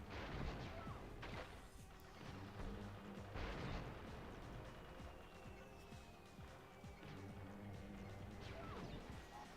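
Crates smashing in Crash Bandicoot: The Wrath of Cortex come as repeated loud crunching crashes and bursts over a dense game soundtrack, several impacts at irregular intervals.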